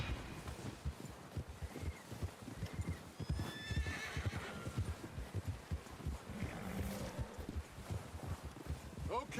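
Horses in the video game Red Dead Redemption 2 gallop with steady clip-clop hoofbeats and let out loud whinnies, mixed with game sounds and some talk.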